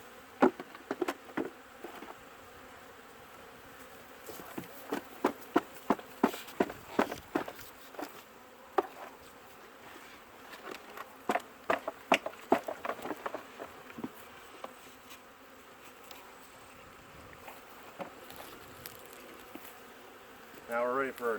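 Honey bees at a hive being readied for winter, a steady low hum of many insects with frequent sharp buzzing bursts and light tapping, close and fairly quiet, no talk.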